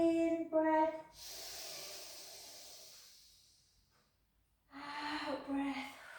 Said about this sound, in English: In breath.